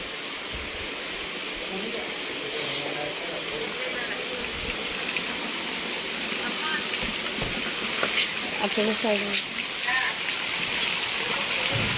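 Rain falling steadily outdoors in Ghaziabad during a halted shoot, a broad constant hiss with a few brief louder splashes, while a voice speaks briefly over it.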